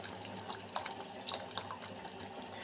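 Tamarind water pours and splashes into a pot with a steady trickle and occasional small splashes, fairly close and moderately quiet.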